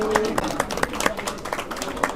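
Audience at a film screening for Godday Godday Chaa 2 clapping in a brief burst of applause, sharp scattered claps over a murmur of voices, fairly close.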